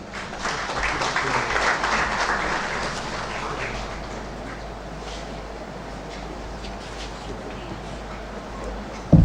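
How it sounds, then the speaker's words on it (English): Audience applause at the inaugural function of an international conference in Navsari, welcoming a speaker to the stage: a dense, steady clapping that swells early and gradually eases off toward the end. "So with this word, with a big round of applause, I welcome Dr."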